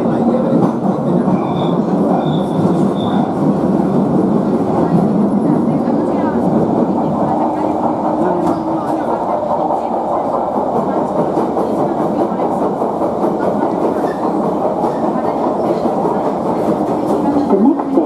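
Bakerloo Line 1972 Stock tube train running southbound between Paddington and Waterloo, a steady loud rumble of wheels grinding on rails throughout, with faint high squeals early on and no pauses.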